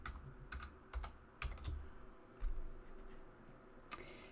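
Computer keyboard typing during a Blender tutorial, a few quiet separate keystrokes and short clusters of clicks spread over a few seconds, close and soft, with no voices.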